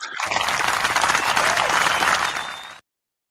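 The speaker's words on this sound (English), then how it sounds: "please give a round of applause for the ladies that are coming in for tonight." Applause for two women guests on a New York cigar-themed podcast, a dense, even burst of clapping that holds steady and then cuts off abruptly.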